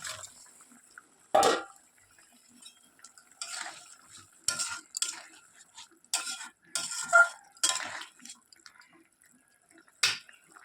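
Fried shrimp and pointed gourd go into a boiling curry, heard as scattered splashes, drips and utensil clinks against a pot, with quiet gaps between bursts and no talking.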